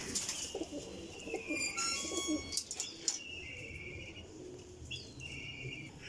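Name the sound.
female Ferozpuri Teddy pigeon cooing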